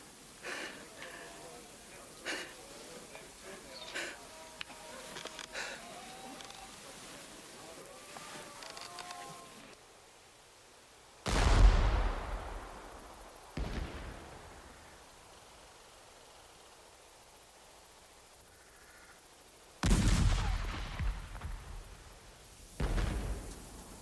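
Artillery shells burst in a Canudos War film scene, several heavy booming explosions with long decaying rumbles spaced a few seconds apart, following a quieter passage with faint voices and background noise.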